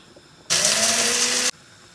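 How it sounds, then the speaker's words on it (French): A blender grinds dried chili peppers in one loud, steady whir lasting about a second, starting and stopping abruptly against near silence. "je vais mixer le piment sec"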